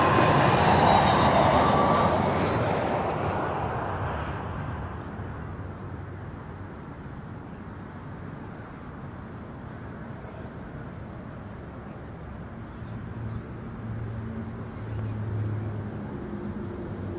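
Embraer airliner touching down on the runway at Toronto Pearson Airport, a loud broadband roar of jet engines and wind at first that fades into a lower steady rumble as the aircraft rolls out, with faint background noise.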